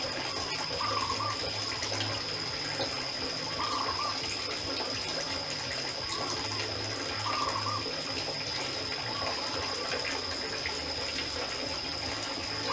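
Water from a small waterfall pouring into a backyard fish pond, a constant splashing rush that holds steady throughout, close and fairly loud, with no voices.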